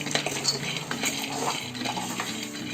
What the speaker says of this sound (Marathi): शेंगदाणे ढवळून घेतोय